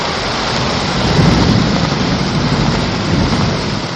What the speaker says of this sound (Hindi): मुख्तलिफ शहरों में कहीं हल्की और कहीं तेज बारिश से मौसम सुहाना हो गया।